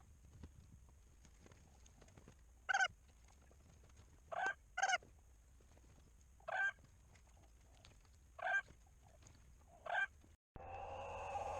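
Chickens cluck in short, separate bursts, about half a dozen spread across the clip, close by over a quiet background.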